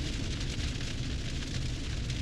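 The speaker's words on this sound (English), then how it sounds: "a minute before the rain set in" Steady rain falls on a campsite with a tent packed up under a dark sky, a dense, even wash of noise holding at a constant level throughout with no voices.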